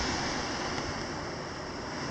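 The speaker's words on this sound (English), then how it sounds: "Hearing the sound of the ocean." Steady ocean wash and surf noise by seaside cave houses on the coast, a continuous broad hiss with gentle swell and some wind, no talking.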